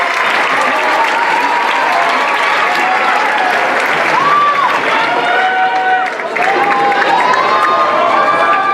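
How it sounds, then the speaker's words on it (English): Audience at the Arab Xpressions 2018 show applauds and cheers after a performance, a steady dense wash of clapping with whoops and shouted voices rising above it, loud and close throughout. "Let's give another round of applause for the second greatest talent to make it out of Egypt"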